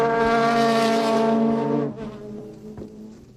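Super GT race cars at SUGO in 2006, a Nissan 3.5-litre twin-turbo V6 and a naturally aspirated Lexus 4.5-litre V8, blare past at full throttle. A loud harmonic engine note sustains, then drops away as the cars pass.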